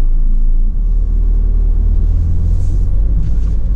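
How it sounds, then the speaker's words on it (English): A Nissan NV400 panel van's engine idles steadily just after starting, a constant low rumble with no other sounds. "there's no unusual noises coming from the engine"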